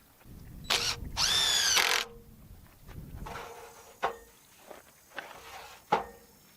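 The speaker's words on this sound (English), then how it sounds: "So three deck screws in here should hold this real nice." A drill runs in short bursts, driving three deck screws into wood for a solar water tank support, with a strong whirring burst near the start, then quieter clicks and knocks of handling close by.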